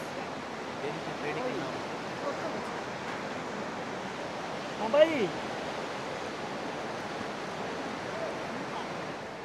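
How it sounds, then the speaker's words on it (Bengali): The Alaknanda river flows as a broad, constant rushing wash of water, with a brief faint sound partway through. "এ দেখো অলকানন্দা বইছে"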